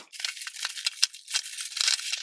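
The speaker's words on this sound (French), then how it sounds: "Je vais le déballer avec vous." Packaging of a hair crimping iron being unwrapped, close and alone: a steady run of crisp tearing and crinkling rustles with a few sharper rips.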